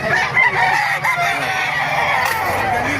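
Roosters crow repeatedly nearby at a rooster market in Bocaue, Bulacan, Philippines, with other birds clucking in the background and faint outdoor murmur.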